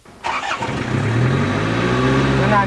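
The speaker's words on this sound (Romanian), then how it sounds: "așteptăm pornirea motorului" A diesel engine with glow plugs starts automatically: a short crank catches abruptly, then settles into a steady, loud idle with a strong low hum that runs to the end.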